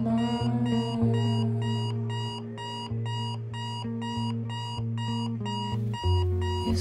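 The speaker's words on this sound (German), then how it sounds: "Wecker aus!" An alarm clock rings in a German sci-fi short film, a loud regular beeping pattern of repeated pulses over a steady electronic tone, alone with no voices.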